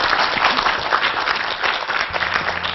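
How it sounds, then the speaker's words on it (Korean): Studio audience applause for a couple on a Korean talk show, a dense steady wash of clapping filling the whole stretch with no voice over it. "큰 박수 보내드릴까요?"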